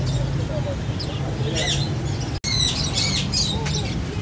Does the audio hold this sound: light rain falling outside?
no